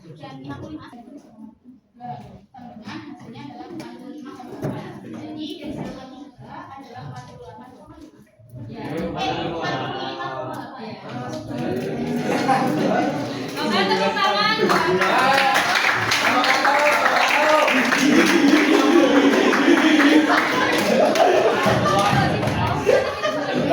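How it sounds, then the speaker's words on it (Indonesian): Hands clapping in a classroom during a group-presentation lesson on statistics, starting thin and building after a few seconds into loud, sustained applause with children's voices mixed throughout. "tepuk tangan"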